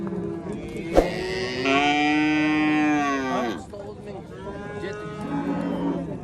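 A young bull moos at a livestock market: one long, loud bellow with a sharp knock at its start, followed by a second, quieter moo. Market noise fills the background.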